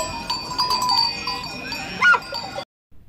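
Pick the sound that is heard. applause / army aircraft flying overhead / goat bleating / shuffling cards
goat bleating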